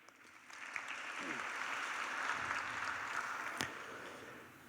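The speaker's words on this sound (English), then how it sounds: "Please give him a round of applause." Steady applause from a graduation ceremony audience swells and holds for several seconds, a broad even clatter of many hands with a quiet voice underneath.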